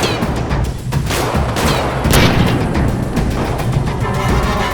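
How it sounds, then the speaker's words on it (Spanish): Gunfire erupts in GTA 5 as a rapid, loud volley of shots and booming impacts that overlap in a dense, continuous barrage with no voices heard. "No era ni más ni menos que CJ quien estaba disparando a Franklin."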